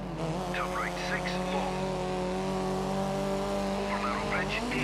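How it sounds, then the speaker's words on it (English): A Mini Cooper rally car in Dirt 3 racing along a long stage, its small engine droning steadily with a thin, high whine, joined by bursts of tire skid and chirps, while another car's engine runs loud and close throughout. "Listen to the engine of the Mini Cooper, it just sounds tiny"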